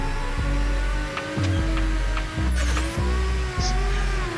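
A car drifting on a track, the engine droning steadily and revving in repeated surges as it slides, with a brief tire squeal rising over the roar.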